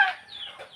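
A single chicken cluck, a brief nasal squawk trailing off, close by and moderately loud.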